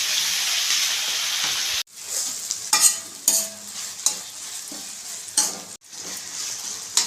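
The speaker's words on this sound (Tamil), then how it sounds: "வெங்காயம் வதங்கிடுச்சு தக்காளி சேர்த்துப்போம் நல்லா வதங்கட்டும்" Onions and tomatoes sauté in a pan, first as a loud steady sizzle, then as a quieter fry broken by repeated scraping stirs of a spoon against the pan.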